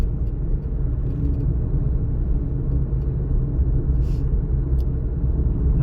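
Steady interior car engine and road rumble while driving along a city street during a driving test, continuous and moderately loud with faint brief clicks, no talk.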